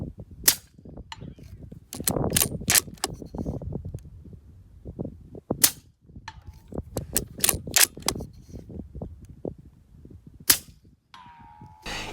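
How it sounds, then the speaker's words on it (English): A 300 Blackout rifle with a 3-18 optic fires repeated shots at an A-Zone steel target 100 yards away, giving a string of sharp, loud cracks at irregular intervals with quieter handling noise between them. "Even while standing, I was able to get the shot on the A-Zone steel at 100 yards."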